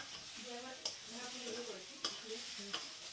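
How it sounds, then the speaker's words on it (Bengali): Pointed gourd slices frying in oil in a wok, a close, continuous sizzle with stirring scrapes and three sharp clicks of a spatula against the pan. "ভাজা হয়ে গেছে আমার পটলগুলো"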